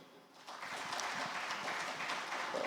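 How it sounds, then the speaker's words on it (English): Quiet audience applause at an investment conference session begins after a brief pause and holds steady as a faint, even wash of clapping. "Can we clap for that?"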